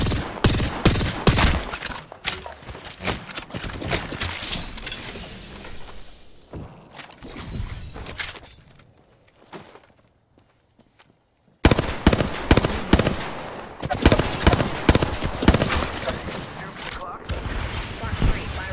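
Video game shootout with a squad under fire: dense bursts of rapid gunfire, loud and close, broken by a quieter stretch near the middle, then heavy volleys resuming, with voices talking over parts of it.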